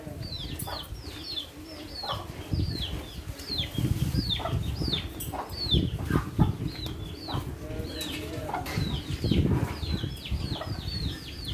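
Chickens cluck and wings flap in short bursts as they flap up onto horses, with repeated high chirping calls over a busy farmyard background.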